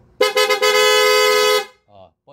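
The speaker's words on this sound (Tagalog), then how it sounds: "Busina." A loud, steady motorcycle horn honk lasting about a second and a half, with a brief stutter at the start, followed by a couple of short quiet bursts. The motorcycle is a first-generation Yamaha R150.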